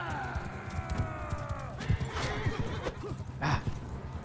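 A horse in the Bannerlord game gallops with rhythmic clip-clop hoofbeats and lets out a loud whinny, close and prominent in a tournament skirmish with other combat noise.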